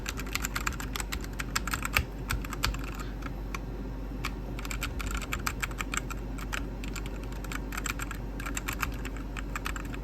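Close, quiet typing on a new LED gaming keyboard: a fast, continuous patter of key clicks and taps with no voices.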